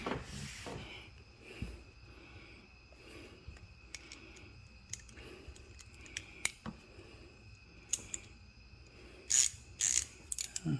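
A ratchet wrench tightens the engine skid plate bolts on a 2020 Nissan Altima, giving quiet repeated clicking strokes in short bursts, with a few sharper metallic taps and clanks near the end.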